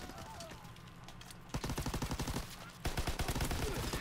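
Rapid bursts of gunfire from a World War II-era gun in Call of Duty: WWII, loud and close, with a quieter stretch giving way to two dense volleys of rapid shots.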